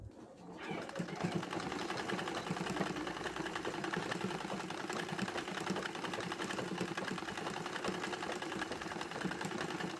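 Sewing machine running steadily while stitching a tote bag, a continuous dense mechanical whir that holds for the full stretch at moderate loudness with no pauses.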